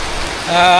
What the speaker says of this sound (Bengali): ভিডিও করার জন্য বৃষ্টির ভিতরে চলে আসছি